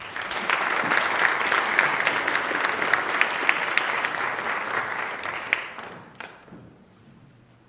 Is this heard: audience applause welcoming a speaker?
yes